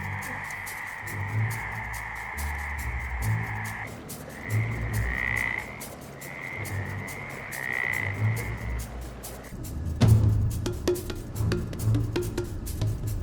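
Tree frogs croak in repeated bursts, a chorus of rhythmic calls over a steady night-time background by a road in Morocco, with a louder close croak near the end.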